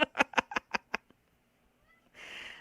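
A black pet cat gives a quick run of six short, close meows in an even rhythm, followed by near silence and then a soft rushing noise.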